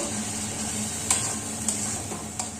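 Spices with cumin powder sauté in a hot pan, giving a steady close sizzle with a few light scraping strokes of a spatula; no voices.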